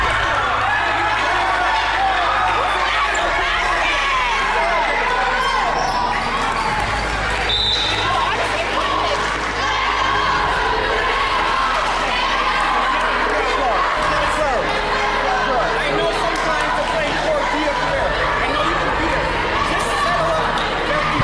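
Crowd at an indoor girls' basketball game in an arena: a dense, constant roar of chatter and cheering with occasional ball bounces and squeaks, loud and unbroken throughout.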